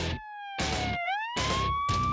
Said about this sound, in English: the trooper hits the siren